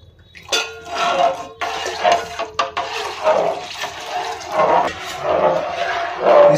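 Hot starch water is stirred in a pot on a gas stove, giving repeated swishing, sloshing surges with light scraping and a few clinks against the pot, close and fairly loud.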